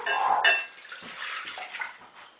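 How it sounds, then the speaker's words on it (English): Water is poured into a bowl of spelt and wheat flour for wholegrain bread: a brief, close splash up front that settles into a softer, uneven trickle and stir. "I will add the water."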